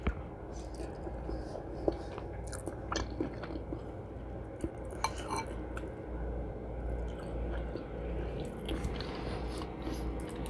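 Close, quiet chewing of crunchy cooked green onion with spicy noodles and rice cakes, soft crunches and wet bites repeating irregularly over a steady low background rumble.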